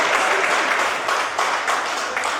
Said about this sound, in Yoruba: ẹ pàtẹ́wọ́ fún ìyá àǹkó.